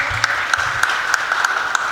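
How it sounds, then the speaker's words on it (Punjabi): An audience at a book release in Punjabi Bhavan gives a brief round of applause to welcome a speaker, with sparse, rhythmic claps rising sharply over a low murmur. "ਤਾੜੀਆਂ ਨਾਲ ਸਵਾਗਤ"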